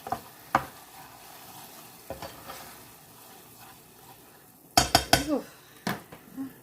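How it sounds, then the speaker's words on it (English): White wine sizzles in a pan with salmon while a utensil stirs and knocks against the metal, giving a few sharp clinks and scrapes over a low frying hiss, close up. "now we're going to go ahead and add our white wine. Get that in there. Stir that around just a little bit"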